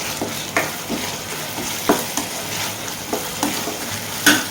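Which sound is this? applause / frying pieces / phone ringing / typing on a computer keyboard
frying pieces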